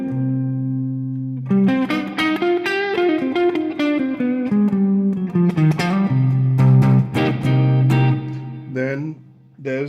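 Large concert-hall reverb applied to a musical passage with sustained tones and melodic notes, the sound lingering and diffuse with long tails, steady and fairly loud throughout before briefly dropping near the end.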